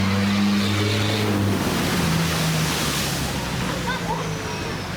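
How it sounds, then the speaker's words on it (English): A Subaru car drives through the flooded Rufford ford, a loud steady rush of water and engine hum with a droning engine tone early on, while people talk nearby. "I can hear the distinctive sound of a Subaru."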